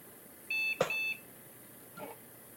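An old desktop computer gives a short electronic beep, a brief bright tone burst followed by a faint softer blip, heard alone in a quiet room.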